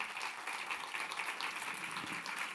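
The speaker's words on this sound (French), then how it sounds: "Oui, il faut applaudir." An audience at a European conference on Erasmus+ applauds after a speech, a faint, steady patter of clapping heard from a distance.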